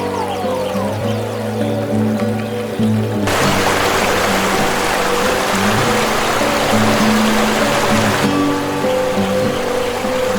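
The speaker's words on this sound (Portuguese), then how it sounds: "o rio Congo se contorce como um dragão feroz, criando as cataratas de Livingstone, o maior sistema de cachoeiras do mundo" The Livingstone Falls rapids on the Congo River roar as a dense, constant rush of churning water. The sound grows fuller partway through and stays loud throughout under a low drone, with no voices.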